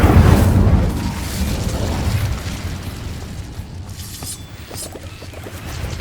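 The Incendio fire spell being cast in Hogwarts Legacy, with a loud, deep whooshing burst at the start that rolls into a fading, rumbling roar of flames with faint crackles.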